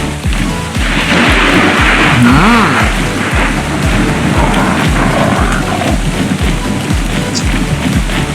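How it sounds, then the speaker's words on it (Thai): A rainstorm with thunder in the game ARK on The Center map: a steady, loud hiss of rain with a deep rumble, over a regular pattern of low thudding beats. "เวลาฝนตกเนี่ย มองเห็นอะไรไม่ค่อยชัดเลยครับ"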